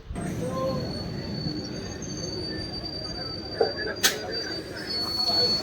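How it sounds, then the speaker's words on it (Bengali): A train pulls into a rural station platform with a loud continuous rumble and long high wheel squeals, plus a brief sharp metallic screech near the end and crowd murmur underneath. "ফাইনালি গাইস ট্রেন চলে এসছে"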